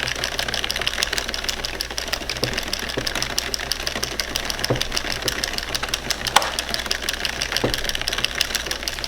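An Addi Express King Size knitting machine knits a drop-a-stitch scarf, a fast, even clatter of rapid mechanical clicks running continuously up close, with a few louder knocks mixed in.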